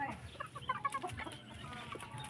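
Chickens cluck in a short, busy burst during a harvest in a yard, with several quick, moderately close clucks spaced unevenly over a faint outdoor background.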